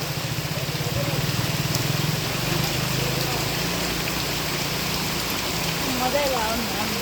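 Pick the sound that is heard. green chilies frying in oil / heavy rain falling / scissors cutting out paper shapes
heavy rain falling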